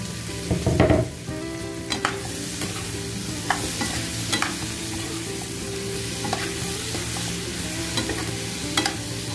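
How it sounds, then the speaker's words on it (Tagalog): Sweet potato pieces tumble into a hot pan with a thud, then a steady loud sizzle of frying continues under repeated clinking scrapes of a stirring spatula, close by and without speech. "Guys, ngayon po ilagay na natin yung kamote."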